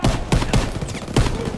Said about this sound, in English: Where is that guy shooting from?